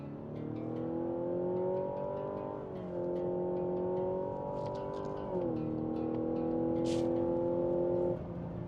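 A 2025 Mazda CX-70 plug-in hybrid SUV accelerating at full throttle, its engine note climbing steadily through several gear shifts, heard from inside the cabin.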